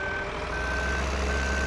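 Engine drone of a NIVA SK-5 Rostselmash combine harvester in Farming Simulator 2015, with steady repeating reversing beeps over a constant low rumble, loud and close with no talking.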